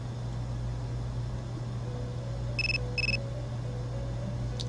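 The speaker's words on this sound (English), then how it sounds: "Your cell phone is ringing." A cell phone rings in the video game Persona 3 Portable as two short, bright electronic chirps in quick succession, heard over a low steady hum with no talk.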